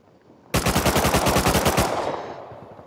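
Rapid automatic gunfire in the Rust video game during a PvP fight, a loud sustained burst of about a dozen evenly spaced shots lasting over a second, then trailing off into a fading echo.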